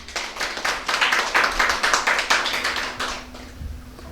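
A small group claps hands in a steady, fairly quick rhythm for about three seconds before it thins out and fades, close and moderately loud, with no talking over it.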